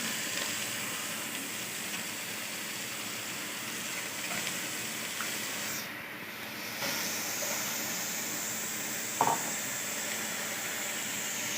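Steady sizzling hiss of beef pieces frying in a pressure cooker for pulao, continuous throughout with a brief dip midway and a small clatter near the end.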